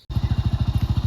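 A motorbike engine catches after a brief silence and settles into a steady, loud, rhythmic idle thump, close by, on a village road during light rain.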